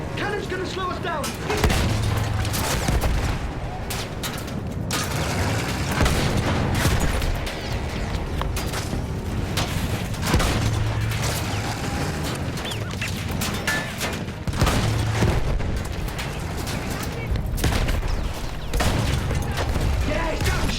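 Cannon fire in a battle, heavy repeated booms and crashes mixed with rapid gunfire and shouting voices throughout, loud and chaotic.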